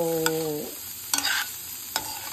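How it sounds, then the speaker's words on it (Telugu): Vegetables stir-frying in oil with chili oil in a pan for quick diet fried rice, with a steady sizzle broken by a few sharp stirring clatters and no voices. "ఇప్పుడు నేను జస్ట్ ఆయిల్ వేసి అందులో చిల్లీ ఆయిల్ పెట్టి తర్వాత వెజిటబుల్ వేసాను"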